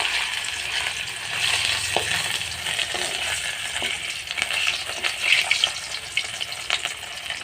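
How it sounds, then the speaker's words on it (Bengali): Fish sizzles loudly in hot oil in a pan, a dense, continuous crackle close by with bursts of spattering toward the end. "দেখো আমার তেলটা গরম হয়ে গেছে, এখন আমি মাছকে দিয়ে দেব"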